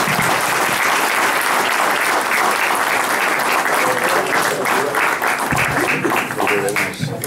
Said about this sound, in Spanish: Fuerte el aplauso para